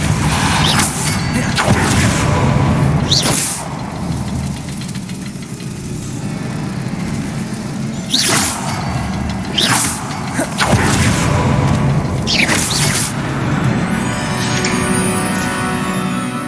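Depulso spells cast in Hogwarts Legacy, sounding as several sharp whooshing bursts spaced a few seconds apart over a steady low mechanical hum, loud and close.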